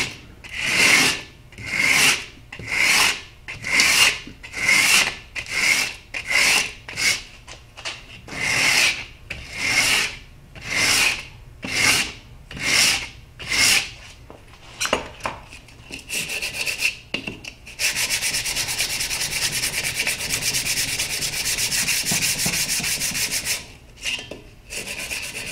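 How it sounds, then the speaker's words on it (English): Metal being hand-filed and sanded flat for a 2x72 belt grinder build, using a fine finishing file and a coarse aggressive-grit one: steady rhythmic rasping strokes for about fifteen seconds, then a continuous scrubbing rub, close and loud, no talking. "it's just a matter of sanding it down."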